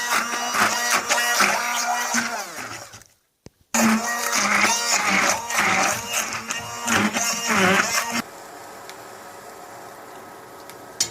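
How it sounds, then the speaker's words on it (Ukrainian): A blender chopping soaked bread whirs loudly in uneven bursts, briefly cutting out and restarting, then winds down to a quieter hum near the end. "І потрібні подрібнюємо з допомогою блендера."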